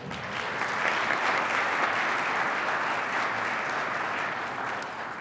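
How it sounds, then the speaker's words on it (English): A conference audience gives sustained applause for a young student at a math demonstration, a dense even wash of clapping that swells and then fades slightly toward the end. "Let's hear a round of applause for Darius Goodman"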